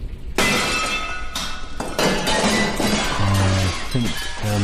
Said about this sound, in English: She's broken the mirror at the end of the universe.